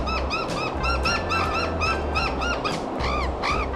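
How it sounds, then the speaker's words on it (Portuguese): Several azure jays call along a canyon trail in southern Brazil, a rapid series of harsh repeated squawks from more than one bird, fairly close and loud over outdoor background noise. "Eu acho que é gralha azul."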